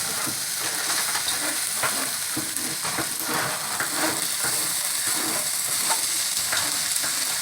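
Spinach fries on high heat for a meatless fusilli sauce, a constant loud sizzle broken by repeated scraping and tossing strokes as it is stirred around the pan.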